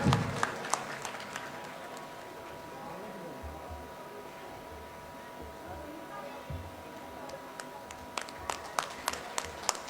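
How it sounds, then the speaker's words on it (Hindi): An audience at a fair event claps to welcome a minister, with scattered sharp claps at the start and a renewed burst near the end, fairly distant, with talk and a low hum between them. "सभी से अनुरोध, एक बार जोरदार तालियों के साथ स्वागत करें माननीय मंत्री महोदय का।"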